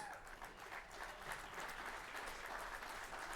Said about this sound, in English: Zach Powell, please come up and take your applause